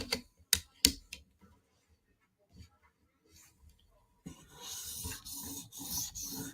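A Mini Arius knife blade is worked on an 800 grit Hapstone premium CBN stone: a few sharp taps and light scrapes first, then a steady, close, gritty rasp of continuous stroking through the second half.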